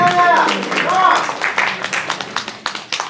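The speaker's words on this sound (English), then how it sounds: "round of applause for me" Audience at a Kaiju-Con rare toys convention panel clapping for the moderator, a burst of scattered claps under talk that thins to a few separate claps.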